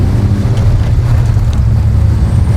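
A Mazda RX-7 FD's rotary engine drones loud and steady from inside the moving car, a continuous low rumble with wind noise over it and no let-up.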